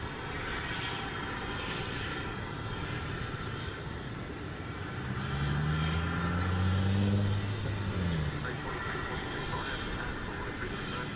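Jet airliners arrive at DFW airport in the evening, a distant engine roar that swells toward the middle and then fades, with a low droning whine and no talk.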